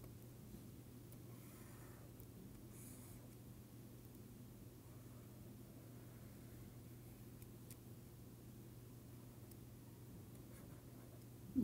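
Marker or chalk scraping across a board while a figure is drawn during a lecture on voltammetry and polarography, a soft steady scratching over a constant low hum, with no talk.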